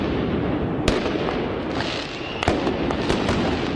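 Fireworks crack during a street riot in Nantes, sharp pops and bangs over a dense, roaring crowd and street din, several bursts scattered across the moment.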